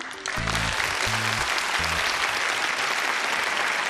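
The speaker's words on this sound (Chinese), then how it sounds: "来，掌声。" Audience applause in a Chinese TV job-hunting show studio swells up loudly after a few low musical stings, then holds as a steady, dense roar of clapping from the whole crowd.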